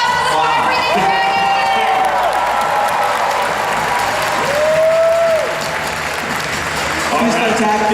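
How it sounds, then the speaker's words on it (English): Loud crowd applause and cheering at a cosplay championship stage show, a continuous roar of clapping with rising whoops and shouted cheers from a large audience, steady over the full stretch. "One more huge round of applause for this amazing, amazing costume"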